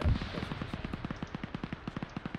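Rapid automatic gunfire from a military shooter video game, a steady stream of evenly spaced shots, about ten a second, at moderate level and heard alone after a low thump at the start.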